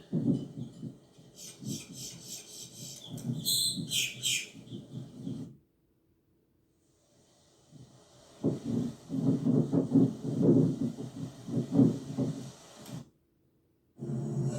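Bright bird chirps and quick trills ring out for a few seconds as the bird drinks from a small faucet, over a low rumbling background, which carries on after the bird goes quiet.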